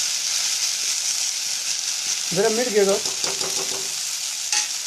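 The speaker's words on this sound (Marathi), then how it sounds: "अशा प्रकारे भाजी फोडणी टाकायची परतून घ्यायचे" Wild greens are sautéed in a hot oil tempering, giving a steady, close sizzle throughout while someone briefly speaks over it.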